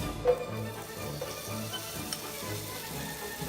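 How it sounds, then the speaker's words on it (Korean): Rice cakes fry in sesame oil in a pan over low heat for oil tteokbokki, giving a steady, close sizzle with a few soft stirring bumps and no talking. "불을 켜고 팬에 올리브를 넣고 떡을 넣어주세요"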